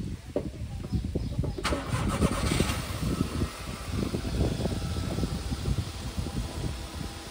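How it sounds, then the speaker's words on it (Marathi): A car engine cranks and starts, then idles and revs at a steady mid pitch from close by, with a faint background voice and a bird. "आता गोविंदा गाडी चालवतोय बघू लेट्स सी"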